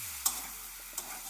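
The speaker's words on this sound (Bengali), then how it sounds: "কসুরি মেথি দিয়ে ভালো করে কষিয়ে নেব।" Kasuri methi stirred into a taro (sola kochu) curry in a pan, giving a soft, steady sizzle with two sharp scraping clinks of a spatula, close and quiet, no talking.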